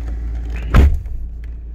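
A half ton truck engine idling after a jump start: a steady low rumble with a brief louder surge partway through, heard close and alone.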